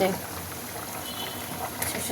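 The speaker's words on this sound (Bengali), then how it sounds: "ফুটছে" Hilsa fish curry in mustard oil bubbling in a covered pan on a gas stove, a soft steady simmering hiss with faint bubbling, heard under someone speaking.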